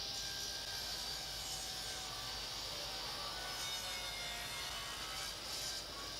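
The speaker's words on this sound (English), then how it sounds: "It's so much easier with the table saw." A table saw cuts a long mitre through beech and jarrah wood, a steady, faint, hissing blade sound that holds evenly for several seconds.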